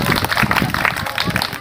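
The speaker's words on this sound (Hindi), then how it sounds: "एक बार जोरदार तालियां से दो" An audience claps for a children's school programme, dense steady applause with many overlapping hand claps filling the whole short stretch at even loudness.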